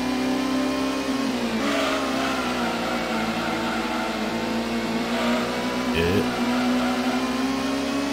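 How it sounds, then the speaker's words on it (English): Several cars revving their engines together in the Gran Turismo video game on PlayStation, just before a race start at Motorsports Land, a steady loud droning engine chorus with rising pitch sweeps, no talk. "revving the shit out of the car preparing for the race start"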